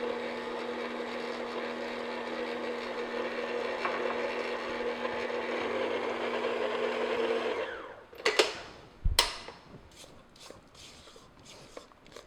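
An electric mixer blends milk into yellow butter cake batter with a steady whirring drone that runs for several seconds, then stops abruptly and gives way to a few sharp clinks and taps.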